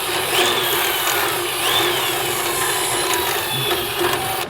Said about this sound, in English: I'm going to just kind of run a drill bit through just to kind of get some of that